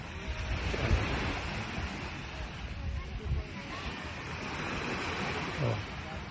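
Sea surf washes in continuously at a beach club in Sta. Fe, with wind buffeting the microphone and a person talking over the steady roar of the waves.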